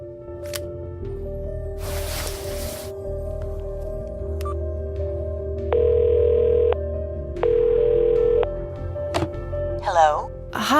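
A telephone call is placed in a video game: a few clicks and soft thumps lead into two long, steady ringback tones separated by a pause, with muffled background noise and a brief voice near the end.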